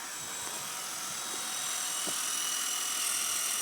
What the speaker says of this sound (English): I do love looking at a woman using a drill